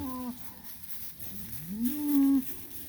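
A short moo trails off, then after a pause a second cow gives a longer, louder, rising moo nearby.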